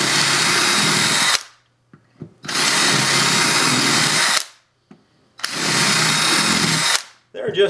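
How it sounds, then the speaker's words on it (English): A power drill whines at high speed in three long bursts, each lasting a couple of seconds, separated by short quiet pauses, while drilling holes during a guitar top crack repair. "I'm going to spin the drill on high speed so that it'll make a cleaner hole."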